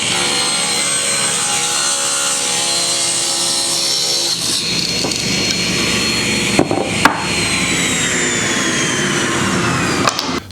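A saw rips wooden boards to width for a raised garden bed, a loud continuous cutting roar close by with the pitch changing as the blade passes through the wood and a few brief knocks near the end.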